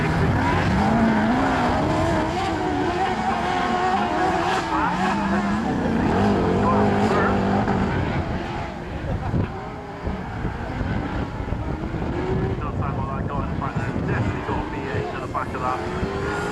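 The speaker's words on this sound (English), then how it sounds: "some of them are fitted with that V8 engine" Autograss racing cars, some with big V8 engines, roar around a grass track at Castle Combe, engines rising and falling as they pass, with a commentator talking over the racing.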